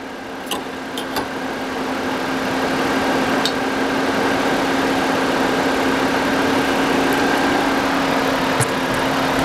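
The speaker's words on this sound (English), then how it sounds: "we're going to go in here and rev the motor up here a little bit" A car engine runs and is revved up while an AC unit is being charged, a steady close drone that rises slightly in level and holds there, with no talking.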